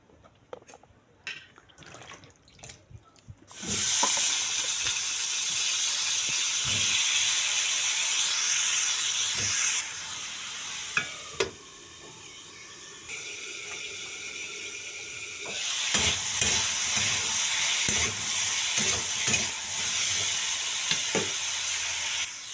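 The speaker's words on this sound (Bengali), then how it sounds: "তারপরে আলু আর পটলটা অল্প এমনিতেই ভেজে নেব, নুন হলুদ কিচ্ছু দেব না।" Potato and pointed gourd frying in a pan make a loud, steady sizzle and hiss that starts abruptly after a few quiet knocks and runs on with occasional stirring clatter and a brief drop in intensity midway.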